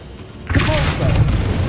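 A Repulso spell cast in Hogwarts Legacy: a sudden booming whoosh bursts in after a quiet start and rolls on as a dense, rumbling blast with shimmering magical tones over it.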